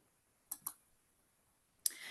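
Three crisp computer mouse clicks in a quiet room, two close together and then one more after a short pause, each short and distinct.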